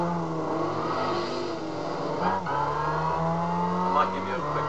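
A race car lapping in Gran Turismo 5 holds a loud, sustained engine note that shifts pitch at gear changes, with brief tyre noise, while someone talks over it.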